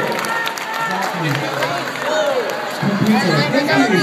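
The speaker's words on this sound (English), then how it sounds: "Can we give them a big round of applause?" Audience applause and cheering from a crowd of World Youth Day delegates, steady clapping mixed with voices and whoops, loud and close throughout.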